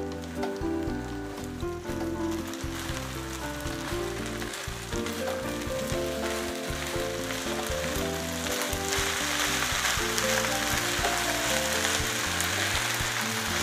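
Nasi goreng with petai and sambal terasi frying in a pan, a continuous loud sizzle with scraping strokes as the rice is stirred and tossed, steady throughout with no voices.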